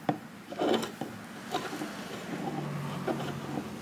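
A chisel scrapes big gobs of glue off the wood of a seven-string LP guitar in close, uneven rasping strokes that rub and scratch in short bursts.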